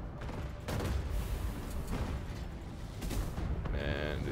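Side guns fire in the Cloud Pirates airship game, a dense, continuous barrage of booming shots with a few louder bursts rolling through at steady volume.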